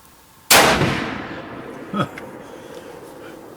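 A single rifle shot fired from a steady shooting bench cracks out loud and sharp, then rings off into a long decaying tail, with a brief clank shortly after.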